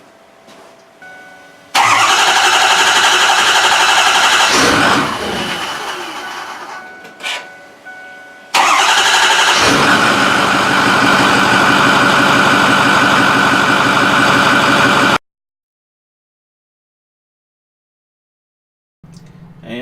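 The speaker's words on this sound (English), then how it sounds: "So we're going to try to start her up and see what happens." Ford F250 6.4 Powerstroke diesel truck engine cranking and catching twice, the second time settling into a loud, close, steady idle before cutting off abruptly into silence.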